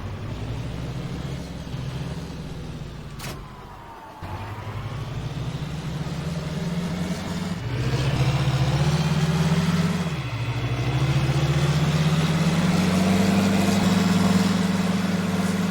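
A tractor engine in the Farming Simulator 19 video game, pulling a plow, hums as a continuous low diesel drone. Its pitch shifts and climbs as it revs up and down, with a brief dip midway, and it plays alone without voices.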